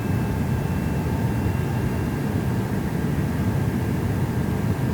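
An Airbus A330-300 on ILS approach to Lisbon runway 2 in a flight simulator produces a steady, dense engine drone with a faint high whine, constant and unbroken throughout.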